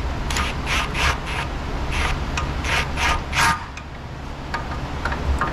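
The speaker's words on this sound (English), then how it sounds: "Going back up with my stubby wrench to hold on to the nut" A stubby wrench tightening a nut on the axle of a 2008 Hummer H2 with a 6.2 L engine, giving a run of quick rhythmic ratcheting rasps in bursts, close up and fairly loud, with no talking.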